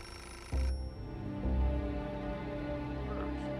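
A telephone rings in the Beholder video game, a loud electronic ring that starts abruptly and then holds steady and sustained with no talking over it.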